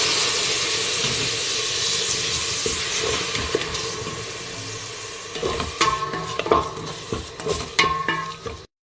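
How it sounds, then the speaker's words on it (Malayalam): Tomato juice poured into a hot pan for chicken pepper rasam sets off a loud, rushing sizzle that slowly fades, then stirring clatters and bubbling take over before it cuts off abruptly. "നമുക്ക് ടൊമാറ്റോ ജ്യൂസ് ഇതിൻ്റെ അകത്തേക്ക് ആഡ് ചെയ്ത് കൊടുക്കാം."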